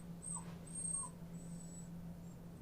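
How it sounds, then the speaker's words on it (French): A dog whimpers in a few faint, high thin whines over a low steady indoor hum, soft and close with brief pauses between cries. "Il va couvrir son chien de bisous car celui-ci vient de couiner"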